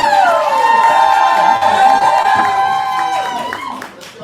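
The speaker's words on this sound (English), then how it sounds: "you all are going to cheer so incredibly loudly for this sacrificial poet" Audience at a poetry slam cheering loudly, a sustained roar of shouts and high whoops with some clapping that holds steady, then eases slightly near the end.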